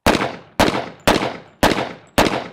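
Five sharp pistol shots from a double-barrel handgun fired at an even pace about half a second apart, each a loud crack with a short decaying tail, fired on a range at a silhouette target 21 feet away.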